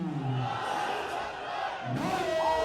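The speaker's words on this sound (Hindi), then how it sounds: "नारों की आवाज है, तालियों की गूंज है, अवाम का शोर है।" Crowd at the Wagah border ceremony roars with chanting and cheering, rising in two swells with loud, sustained shouts from many voices.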